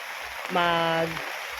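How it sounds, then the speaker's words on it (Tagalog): Heavy rain falls in a steady hiss throughout, with a brief voice rising over it in the middle. "lumakas na yung ulan"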